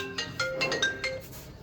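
Brief phone ringtone, a short run of bright electronic tones in a quick rising pattern, moderately loud against a quiet room.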